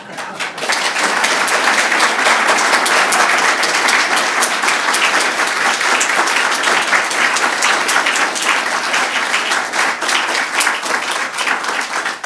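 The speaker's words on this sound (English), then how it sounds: "thunderous prolonged applause" A lecture audience breaks into sustained, dense applause for the speaker, a steady roar of many clapping hands that carries on for about twelve seconds without a break.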